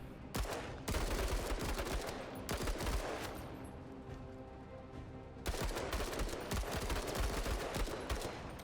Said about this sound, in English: Blind fire.